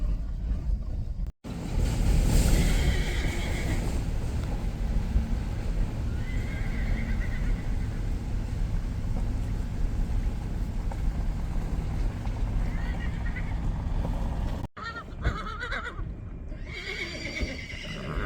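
Horses on a fall farm run toward a fence line, hooves thudding and clopping nearby while several loud whinnies and neighs ring out repeatedly, with wind noise and a brief break partway through.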